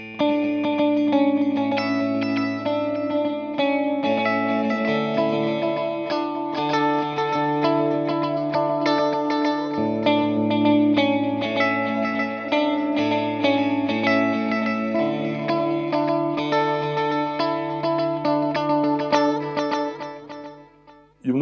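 Electric guitar runs through an MXR Joshua ambient delay pedal set for a rhythmic delay, playing a continuous chiming pattern of repeating notes that cascade together, loud and close, with no talking.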